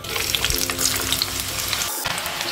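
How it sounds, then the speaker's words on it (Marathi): Pieces of elephant foot yam (suran) fry in hot oil for an undhiyu, a dense, steady close-up sizzle and bubbling that continues without pause. "आता सुरण फ्राय करून घ्यायचे"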